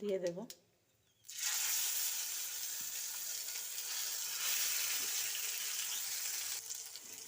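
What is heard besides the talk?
ground spice paste sizzling as it is added to frying tempering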